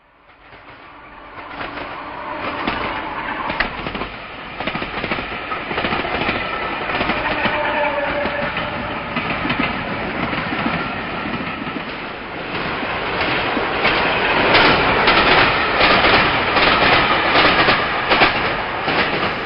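Southeastern service trains passing at speed along the Hoo line toward Higham, a continuous loud rumble with rhythmic clickety-clack of wheels that grows stronger through the passage.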